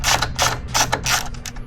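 Ratchet loosening a T25 Torx bolt on the battery holder plate of a 2024+ Harley touring motorcycle, giving four or five close, loud bursts of rapid clicking at an even pace with short pauses between strokes.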